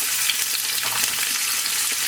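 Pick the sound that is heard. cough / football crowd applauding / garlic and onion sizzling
garlic and onion sizzling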